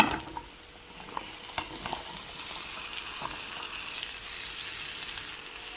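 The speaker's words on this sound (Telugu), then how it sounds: "ఇప్పుడు మనం కట్ చేసి పెట్టుకున్న సొరకాయ ముక్కల్ని దీంట్లో యాడ్ చేసుకోవాలి." Pieces of bottle gourd fry with hing in a hot pan, giving a steady close sizzle broken by scattered clinks and scrapes of stirring.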